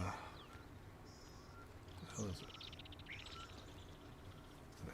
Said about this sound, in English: Axis deer warning.